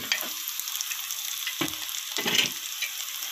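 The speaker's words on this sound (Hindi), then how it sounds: "अब हम इसको लो फ्लेम पे 2 से 3 मिनट दम देंगे।" Tomatoes and green chilies cook in a pan over a low flame, a soft steady sizzle with a couple of stirring scrapes and clinks, no talking.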